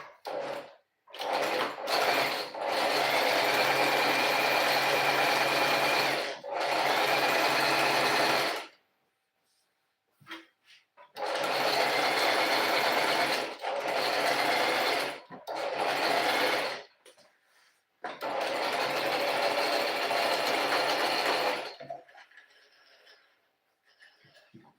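Sewing machine running a straight stitch on a garment, three long loud bursts of fast, even needle hum separated by short silent pauses and a few clicks.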